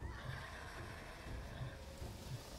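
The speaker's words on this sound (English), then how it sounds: "tell if I just heard a horse neighing in the storm" A horse whinnies a few times amid a stormy ship-deck ambience during a tabletop role-playing game, its calls faint and blended into steady wind and water noise with low rumbles.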